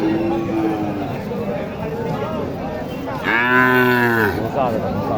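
A young Sahiwal heifer at the Mataji cattle market in Naogaon gives one loud, drawn-out moo near the end, close by, after a stretch of talk and market noise.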